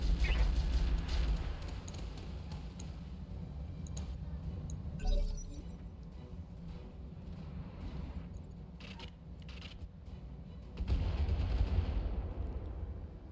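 Weapons fire from mechs in the Roguetech video game, a steady rumble of heavy booms and cracking impacts lasting throughout, with louder bursts near the start, middle and end, and voices talking faintly underneath.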